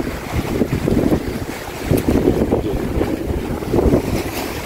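Strong outdoor wind buffeting a microphone, a steady loud roar rising and falling in gusts, with no talk.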